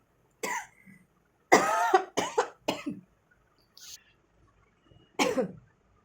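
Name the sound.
coughing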